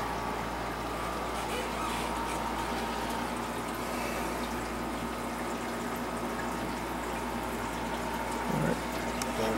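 Water from an aquarium auto top-off pump pours steadily into a reef tank's main tank, a continuous close bubbling and trickling wash that holds at an even level throughout, with no talk.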